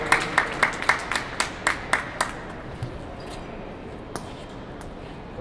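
An audience claps for performers at an atrium music event, a short burst of applause with distinct strong claps that quickly thins to scattered hands and fades into room quiet.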